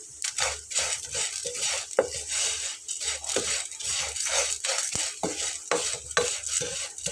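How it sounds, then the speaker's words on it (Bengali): Flattened rice (chira) frying crisp in a little oil, stirred and tossed in a pan, with rhythmic rasping scrapes and clinks of a spatula over a light sizzle, close and without voices. "খুব ভালোভাবে মিল করে ভেজে নিচ্ছি"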